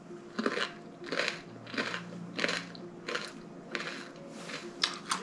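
Someone bites into a crispy rice-coated corn dog with a sugared crust, mozzarella and sausage: about seven sharp, close crunches at a steady chewing rhythm, with no talking.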